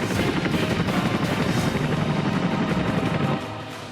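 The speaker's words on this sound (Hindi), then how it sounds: "वायुसेना के बेड़े की शान चिनूक हेलीकॉप्टर" An Indian Air Force Chinook helicopter thunders with loud, steady rotor thumping and a dense engine roar, holding constant before easing slightly toward the end.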